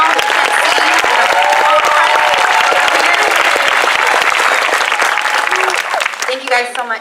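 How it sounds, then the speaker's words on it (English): Loud, sustained applause and cheering from a large crowd for the crew at an 8th grade promotion ceremony, a thick continuous roar of clapping with whoops that fades near the end as a voice begins speaking. "I want to give everybody a round of applause."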